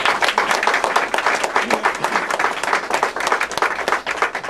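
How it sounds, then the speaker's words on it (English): Loud, dense applause from a campaign rally audience for a Virginia state senate race, steady clapping filling the whole stretch with no voices on top. "give yourselves a big round of applause"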